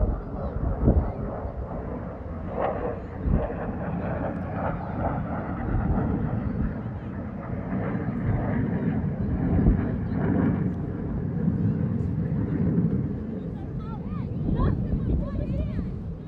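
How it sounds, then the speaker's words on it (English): An F-16 fighter jet circles behind the crowd at the Great Texas Airshow in San Antonio, a sustained broad distant roar mixed with wind buffeting on the microphone. "This is an F-16 that is circling right now behind us."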